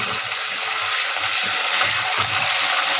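Water boiling hard in a pot while a prawn curry is being cooked: a steady, close bubbling hiss that runs unbroken from start to finish, with no voices.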